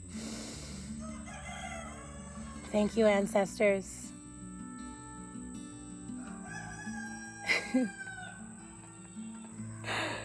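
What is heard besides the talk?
roosters crowing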